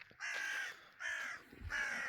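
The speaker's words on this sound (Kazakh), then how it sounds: "Тыныш деп жатсам, қарғалар тыныштықты бұзып жатыр" Crows caw in a quiet village, three harsh, drawn-out calls evenly spaced and fairly clear against a calm background.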